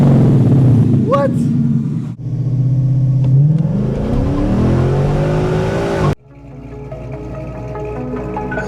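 Car engine revving hard through a classic muffler, deep throaty surges that rise and fall over several seconds, loud and close, then dropping to a rumbling idle after an abrupt cut, with people talking over it.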